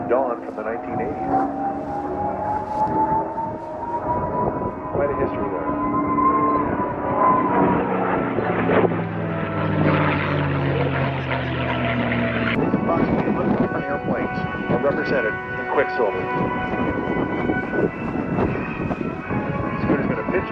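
Aircraft engines drone steadily at an airshow, with tones shifting as planes pass overhead, a loud continuous roar running through the whole stretch while a commentator talks over it.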